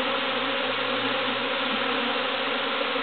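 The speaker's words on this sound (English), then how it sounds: "The beautiful black bees, I think they are from the skep over there." Swarm of black honeybees outdoors near a skep, a steady dense buzzing hum that holds at an even level throughout with no talking.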